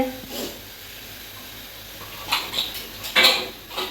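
Spices are tempered in a pot for ghugni. A steady hiss and sizzle of hot oil is topped by a few clinks of a metal utensil against the pan near the end.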